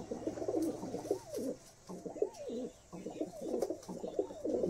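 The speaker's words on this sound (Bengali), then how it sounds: "পায়রাগুলো কত অ্যাক্টিভ পায়রা দেখতেই পাচ্ছ নিজের চোখে তোমরা।" Teddy pigeons for sale coo in repeated throaty bursts, fairly close, with short pauses between calls and a steady low background hum.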